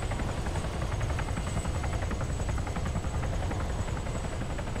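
A helicopter in the video game Arma 3 drones with a steady, fast rotor chop and engine whine, loud and constant throughout with no speech.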